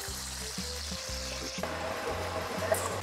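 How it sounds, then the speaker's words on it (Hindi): Onions frying in a hot kadai, a steady bright sizzle running throughout with a soft repeating low thump, close and alone with no talking. "Time to fry the onions"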